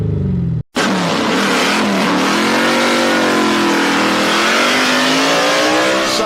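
A drag-racing gasser-style car revs hard through an electronically controlled exhaust, a loud, close, sustained roar that climbs in pitch after a brief cutout, with no talk.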